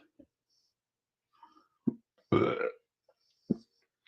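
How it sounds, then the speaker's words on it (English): One loud, close burp rings out amid a few faint clicks and small mouth sounds in an otherwise quiet room. "excuse me, people. Burping is not fun."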